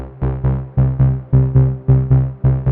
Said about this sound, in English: And I have another sequence with 5 steps.